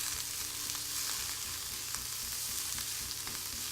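Onions and garlic fry in a pan with a steady, close, even sizzle and faint crackles, unbroken and with no voices.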